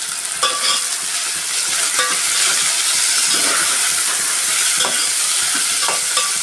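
Tomatoes and slit green chillies sizzling in a hot pan while being mixed, a constant dense fry with repeated sharp scraping and clacking of the spoon against the pan, close and loud.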